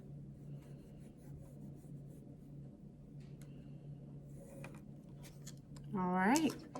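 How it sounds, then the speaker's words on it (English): A marker or pencil is drawn along a quarter-inch seam line on quilt fabric for a nine-patch block, a soft scratchy rubbing over steady low background hum, faint and close, with a brighter squeak near the end. "match up the corners, draw my 1/4 of an inch seam"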